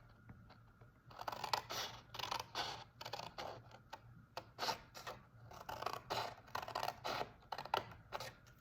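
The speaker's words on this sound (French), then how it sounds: "je viens couper en biseau pour obtenir ceci" Scissors cut paper on an angle in a quick run of crisp, rasping snips and rustles, close up and fairly quiet, with no one speaking.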